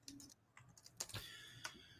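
Someone types on a computer keyboard close by, a few quiet irregular key taps and clicks over a soft background.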